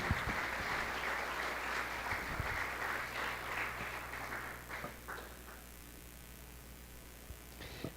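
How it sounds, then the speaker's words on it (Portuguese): A church congregation claps and cheers loudly for several seconds during a Portuguese-language worship service, the applause then thinning and fading out to quiet. "você pode aplaudir a Ele"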